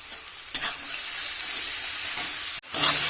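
Chopped onion, capsicum and tomato frying together in a pan for chicken ghugni, a loud, close, continuous hissing sizzle with two sharp bursts as the mix is stirred, one after a brief pause.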